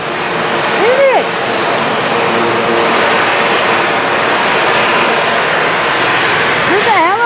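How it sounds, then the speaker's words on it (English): Steady loud rotor-and-engine roar of a nearby helicopter at a children's hospital fills the whole clip, with a few brief voices at the start and end. "There's a helicopter over there."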